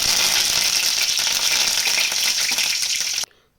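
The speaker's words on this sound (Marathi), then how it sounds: "जिरं मोहरी टाकून घेते आता." Cumin and mustard seeds sizzle in hot oil in a home kitchen. The frying hiss is loud, close and continuous, then stops abruptly just before the end.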